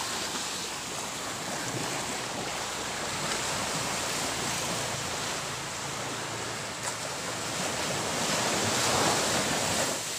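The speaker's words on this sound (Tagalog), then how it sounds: "Hindi malakas ang alon." Gentle surf washes steadily along the Polillo Island shore in the late afternoon, a continuous broadband wash of small waves with some wind noise on the microphone, no voices.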